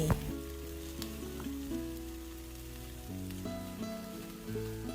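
Mama instant noodles stir-frying with dark soy sauce and fresh green vegetables give off a steady, close sizzle and crackle that runs the whole time. Lighter stirring scrapes sit over a bed of low background music.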